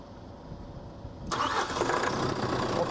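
A GTS30H forklift with a faulty high-pressure pump IMV valve connector cranks and catches, its engine starting up abruptly and settling into a loud steady idle close by.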